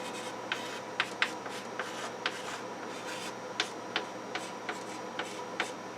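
A pen writes out an equation on paper, giving a steady run of small, close scratches and taps in an otherwise quiet room with faint background hiss.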